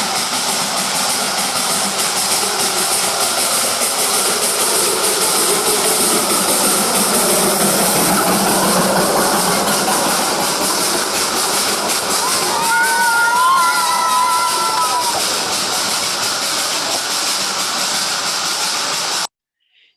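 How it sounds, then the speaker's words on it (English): A Darjeeling Himalayan Railway steam train in the Himalayan foothills of Bengal passes with a loud, steady hiss and rumbling engine noise, a brief whistle-like tone rising midway through, before cutting off abruptly. "that's the extraordinary Darjeeling Himalayan Railway"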